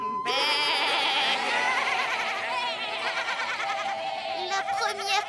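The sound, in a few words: goat bleating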